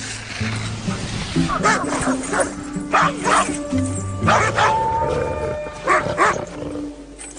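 Several sled dogs bark and yip in an excited, overlapping chorus, with some whining cries mixed in, close and fairly loud.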